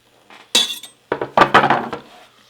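Sliced mushrooms tipped from a cutting board into a pan with butter, heard as a few sharp clinks and clatters of utensil and cookware in two quick bursts, close and loud, with no voices.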